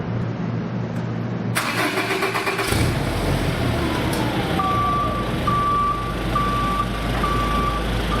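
A clamp truck's engine cranks and catches, then idles steadily and fairly loudly while a reverse warning beeper starts sounding in a repeating, evenly spaced pattern. No one speaks.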